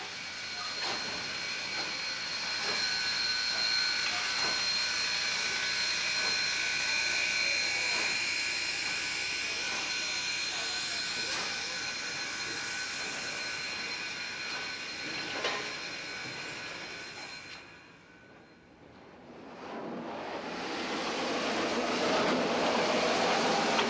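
Grand Canyon Railway steam locomotive rolls out of the shop doors with a steady hiss of steam and clanking rail noise. It fades briefly near the end, then swells again.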